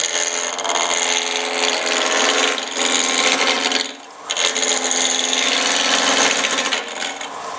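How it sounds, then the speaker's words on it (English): A wood lathe turns a Christmas ornament blank while a roughing gouge rounds it off, giving a steady, loud scraping hiss of tool on spinning wood that pauses briefly near the middle and resumes. No one speaks. "all I'm going to do here is round it off with a roughing gouge"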